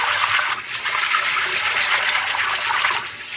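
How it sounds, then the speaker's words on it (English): Hot tap water runs hard over pinto beans being rinsed, a continuous close splashing gush with slight sloshing swells and no speech. "I typically just run them with hot water, slosh them"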